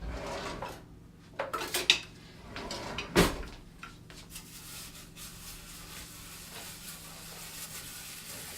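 Decarboxylated cannabis is stirred into oil in a kitchen, giving a few sharp metallic clinks of utensil against dish early on before it settles into quiet background.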